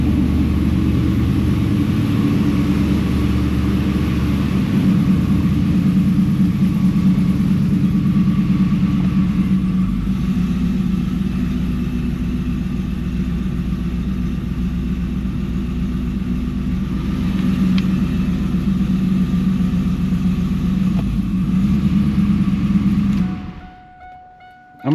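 A WS6 Trans Am idles with a low, steady rumble while easing backward toward race ramps, holding constant for over twenty seconds before abruptly cutting off.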